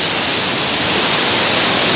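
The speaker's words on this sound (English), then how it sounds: "So there you can see the waterfall." Continuous roar of rushing water from the Thusharagiri waterfall in Kerala, loud and steady throughout with no voices.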